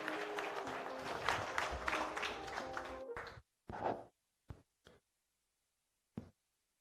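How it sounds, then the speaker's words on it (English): Audience applause at a security summit, a full burst of clapping that cuts off abruptly, followed by a few scattered isolated claps or knocks separated by silence. "Give him a big round of applause, guys."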